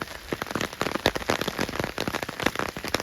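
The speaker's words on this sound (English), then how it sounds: "It's raining." Steady rain patters on the monkey tree at Hearst beach in San Simeon, California. The dense, continuous crackle of drops sounds close and fills the whole stretch, with no talking.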